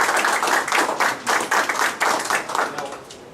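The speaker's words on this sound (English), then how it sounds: "So I want to give Wayne a clap." A small meeting audience claps for Wayne at a transit coalition meeting, the individual hand claps distinct and rhythmic, fairly close, fading slightly toward the end.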